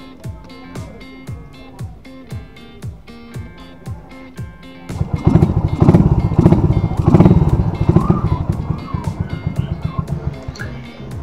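A motorcycle fitted with a freshly tuned PE28 carburetor idles with a steady thumping pulse, then the throttle opens and the engine revs loud and rough before settling back into a pulsing idle, close by.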